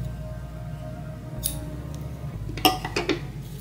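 Scissors snip through crochet yarn at the end of a round of a scrappy bucket hat, a couple of crisp close cuts and small clicks over a quiet room hum.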